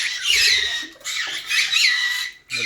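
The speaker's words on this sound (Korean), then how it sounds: "앵무새도 있고요." A pet parrot in a Korean home with dogs and guppies squawks loudly and close by in long harsh bursts, with short breaks between calls and no one talking.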